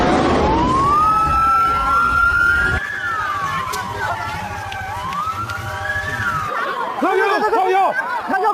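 Ambulance and fire truck sirens wailing, rising and falling over a steady traffic roar at a fire in China, shifting to a fast yelping pattern near the end, with faint chatter underneath.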